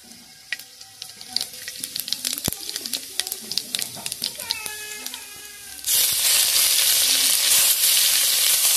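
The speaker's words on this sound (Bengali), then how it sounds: "এবারে ফোড়ন দেবো।" Whole spices hit hot oil in a wok during preparation of a Bengali fish curry, bursting into a loud, steady sizzle after a stretch of clattering and faint voices.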